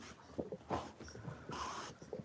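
A puppy whimpers and pants close by in short, uneven bursts, with snuffly breaths between them and no talking.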